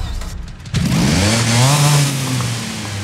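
A small car engine cranks and catches, then settles into a loud rising idle that slowly steadies.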